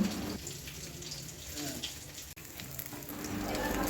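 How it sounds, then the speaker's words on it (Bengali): Rohu fish frying in oil, a low, even sizzle and faint crackle that holds steady throughout, with a brief dip midway and no speech. "তো রুই মাছটাকে আমি ভেজে তুলে নিচ্ছি"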